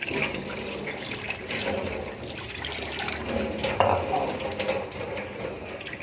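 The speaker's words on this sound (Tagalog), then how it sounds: "Lalagyan lang natin ng konting sabaw na tubig." Water pours steadily into a cooking pot for several seconds with a continuous splashing, gurgling stream, close by and without any talking.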